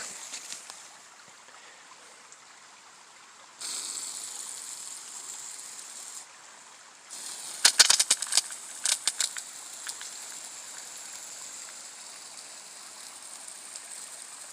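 Gravity-fed water from a ram pump rushes out of a flex hose outdoors, a broad hiss that swells louder after a few seconds, with a burst of splashing clatter partway through.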